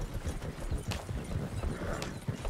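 Horse hooves clip-clop steadily on the ground in the Red Dead Redemption 2 video game, a rhythmic series of close hoofbeats with faint background noise.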